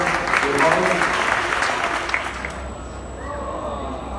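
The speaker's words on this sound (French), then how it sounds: "Et on peut applaudir les enfants." Children and adults applaud at a school presentation, a dense burst of clapping that thins out over a few seconds and fades as a faint tone lingers behind it.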